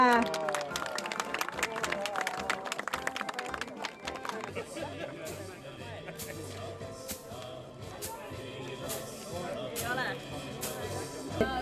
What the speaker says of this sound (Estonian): Ja teeme aplausi Ellenile!